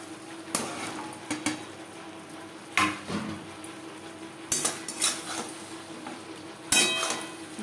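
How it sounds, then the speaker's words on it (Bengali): Snake gourd pieces tossed with spices in a pan, mostly clattering metal spatula knocks and scrapes against the pan in irregular bursts over a soft background fry, no talk. "মশলার সাথে চিচিঙ্গা 4-5 মিনিট নাড়াচাড়া করব।"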